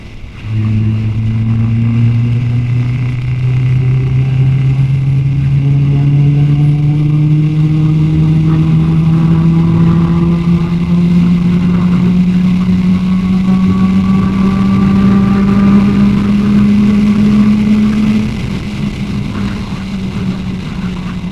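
A motorcycle engine pulling under full throttle in sixth gear, a loud continuous drone whose pitch climbs steadily for about eighteen seconds before the throttle eases off, with constant wind noise throughout.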